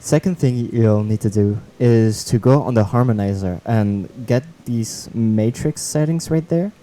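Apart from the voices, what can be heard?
No everyday noise stands out behind the speech.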